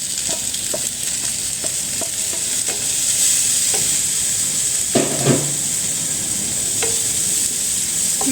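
Anchovies and chili hit a pan of fragrant shallots and garlic for a papaya-leaf stir-fry, sizzling steadily with a bright hiss, while a spatula scrapes and stirs in scattered knocks, no talk over it.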